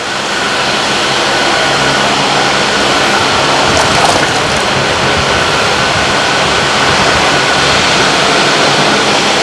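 A steady, heavy rushing pour of ghee into a vessel runs without a break, loud and close, with no voices.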